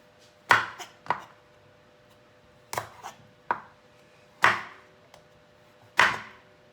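A dull kitchen knife chops food on a board in about eight sharp, separate strikes, some in quick pairs, with quiet gaps between them and no talking.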